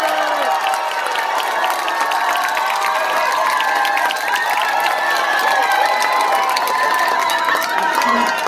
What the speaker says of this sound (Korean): 우리는 험 잡을 데는 없는 우리 버드리 품바니 박수 한번 주세요